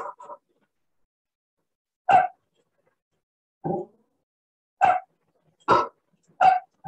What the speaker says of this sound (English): So we are having this uh, dog sound over here